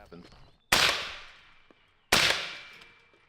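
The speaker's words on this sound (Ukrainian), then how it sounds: "Добре, гайда стріляти по бетонних блочках." Two loud video-game gunshots fired at concrete blocks, well apart, each a sharp crack followed by a long fading echo, with faint clicks and rustling between.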